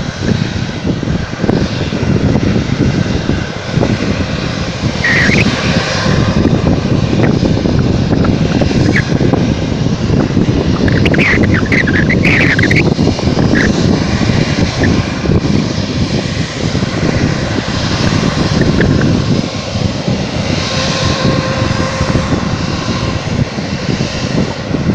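Airplane engine roar at Phuket airport near Mai Khao beach, a loud steady rumble that fills the whole stretch, with wind buffeting the microphone and no voices.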